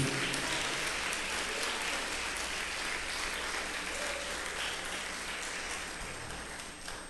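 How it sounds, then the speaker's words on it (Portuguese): Steady, dense applause from a large church congregation, sustained and even for several seconds without a break. "Pode aplaudir mais forte o nome de Jesus."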